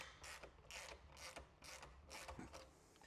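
A ratchet wrench loosens the exhaust clamp on a Harley-Davidson factory muffler, with six bursts of close, loud ratcheting clicks in a steady rhythm and no talk.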